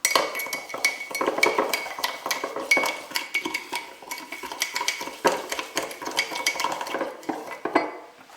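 A spoon stirring melted butter with white and brown sugar in a mug, rapid close scraping and clinking of metal against ceramic in irregular bursts, continuing throughout with no talking.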